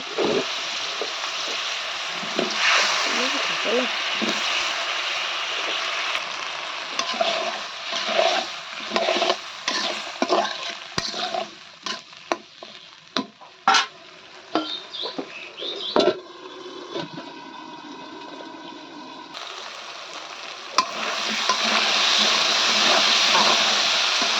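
Fish being stir-fried in a pan in a home kitchen: a loud, continuous sizzle with sharp, irregular spatula scrapes and clacks. It thins out midway and then swells back up.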